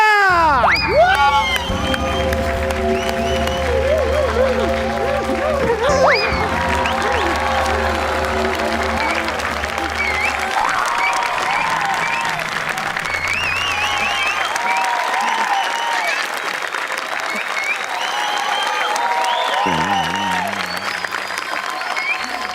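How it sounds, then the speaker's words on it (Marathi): An audience at a Marathi comedy stage show applauds loudly and at length, with cheering and crowd noise over the sustained clapping, while music plays underneath. "लोकांनी तिकडे टाळ्या वाजवल्या"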